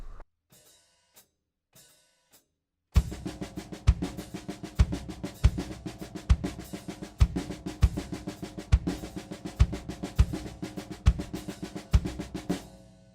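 A few soft scattered hits open, then a steady linear drum groove enters at full kit: punchy bass drum notes take the accents, with a hi-hat pattern running between them in a tight, repeating rhythm.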